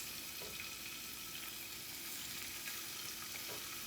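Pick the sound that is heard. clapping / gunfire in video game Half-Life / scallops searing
scallops searing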